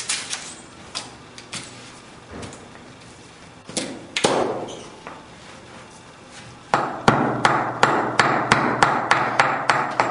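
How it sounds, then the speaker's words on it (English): Slag hammer beating wood with its razor edge while finishing material, repeated sharp close thuds, sparse at first then a steady quick rhythm of loud strikes, with no talk. "beating up the material on the wood using the razor part of the slag hammer"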